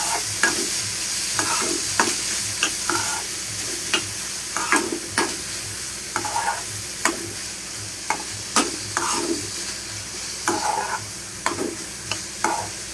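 Food fries in a pan, likely in butter, under a steady broadband sizzle, while a spoon stirs it in repeated scraping strokes roughly every second across the whole stretch; no one speaks.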